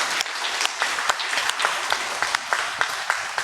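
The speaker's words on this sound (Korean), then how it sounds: "우리 한번 박수로 한번 영광을 올려드리겠습니다" A church congregation at a Sunday morning service claps together, a scattered run of sharp hand claps spread evenly over a few seconds at moderate level.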